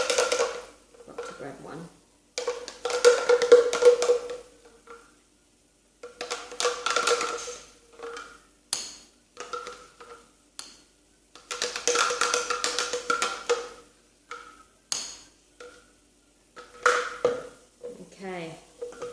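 A spatula scrapes a mixture out of a bowl in a series of intermittent scraping and clinking bursts. A voice speaks briefly between them.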